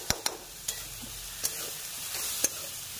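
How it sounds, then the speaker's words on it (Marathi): Masala of coriander powder, turmeric, salt and garam masala frying in a pan for field beans, a soft continuous sizzle broken by a few sharp clicks of a stirring utensil against the pan. "मसाला टाकल्यानंतर त्याला थोडंसं मसाला फ्राय होऊ द्यायचा."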